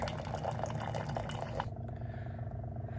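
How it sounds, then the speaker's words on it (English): Hot water pours steadily from a countertop reverse osmosis dispenser into a cup, a continuous close liquid rush that thins to a quieter trickle partway through, with no voices. "it starts dispensing right away, and you'll see all the steam coming off"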